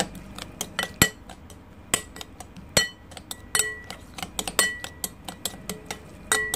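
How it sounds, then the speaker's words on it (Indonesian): A spoon stirs seafood in a green grape juice marinade inside a bowl, giving many quick, irregular metallic clinks and taps against the dish, close and crisp with no talking. "Nah sekarang akan saya aduk."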